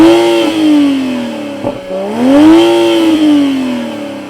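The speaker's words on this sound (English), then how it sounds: "You have your 2 exhaust pipes, which sound fantastic." A 2021 Toyota Supra GR engine revving through its twin exhaust pipes, loud and close, rising and falling in two strong swells with a brief dip between them.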